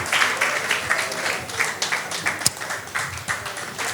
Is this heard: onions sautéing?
no